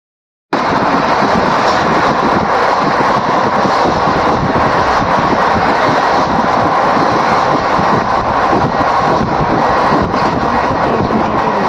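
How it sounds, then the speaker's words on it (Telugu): A train, the Seshadri Express, rumbles into Samalkot station with a loud, continuous roar of wheels and engine that holds steady from start to finish without talk. "అంతలో ట్రైన్ అయితే వచ్చేసింది"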